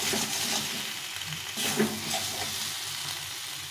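Potatoes stir-fried with spices and melted tomatoes in a pan: a dense, steady sizzle with a soft stirring scrape, close and unbroken for a few seconds.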